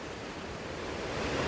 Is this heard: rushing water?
yes